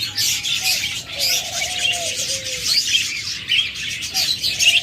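Caged budgerigars and cockatiels at a bird sale chirp and whistle continuously, with a dense chatter of many birds close by and a few clearer whistled calls rising above the flock.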